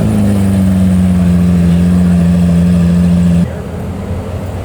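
Lamborghini Aventador at a night car meet, a loud steady high engine drone holding one pitch for several seconds before cutting off abruptly, leaving lower background rumble.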